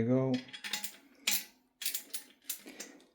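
Screws on the heating element of an Olympia Cremina espresso machine are tightened with a tool, making a series of short close metallic clicks and ratcheting scrapes in uneven bursts, after a brief murmur of voice.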